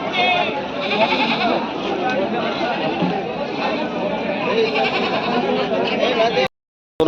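Goats bleat over and over, close and loud, at the Atani goat market, layered with dense crowd chatter and people talking throughout.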